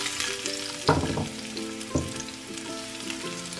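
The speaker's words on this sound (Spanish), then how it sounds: "Ahora lo que voy a hacer es que lo voy a freír." Seven cloves of chopped garlic sizzle steadily in a hot pan, a continuous crackling fry with a couple of brief louder clatters from stirring, and no one speaks.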